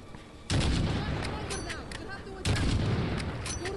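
Heavy gunfire at a sniper in Call of Duty: Modern Warfare 2019 erupts in two loud, booming sustained bursts, rumbling with crackling reports, with battle noise underneath.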